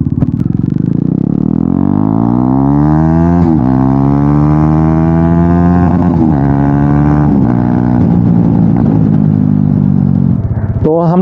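A loud Bajaj Dominar 400 motorcycle engine revving close by, pitch rising and falling through several throttle blips, with a deep throaty rumble throughout.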